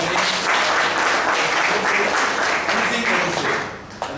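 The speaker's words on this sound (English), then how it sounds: "A big round of applause to Mr. Ganesh." An audience at an evaluation session gives a round of applause, dense steady clapping from a crowd lasting about four seconds before tapering off, with a few voices faintly mixed in.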